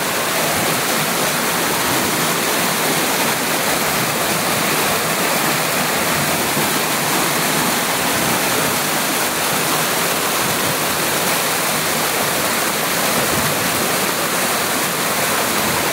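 Loud, continuous roar of rushing water, dense and unbroken from start to finish with no voices.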